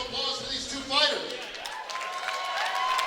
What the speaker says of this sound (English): Ladies and gentlemen, a big round of applause for these two fighters.